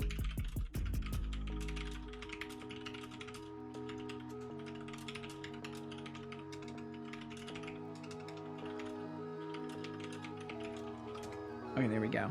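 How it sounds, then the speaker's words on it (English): Fast, steady typing on a computer keyboard clicks along for about twelve seconds at low volume, with tonal background music running underneath. "I was typing a text to Casual."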